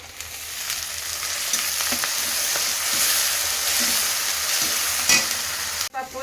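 Moong dal fries in hot oil in a pan for jowar upma, a steady close sizzle broken by scraping spoon strokes at intervals, with a sharp clatter near the end.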